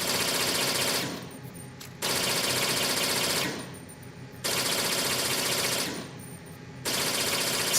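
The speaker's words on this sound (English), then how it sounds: "As long as he's shooting, I can't shoot him back." Gunfire in Metal Gear Solid 2, loud sustained machine-gun bursts of about one to one and a half seconds each, separated by short lulls, with no talk.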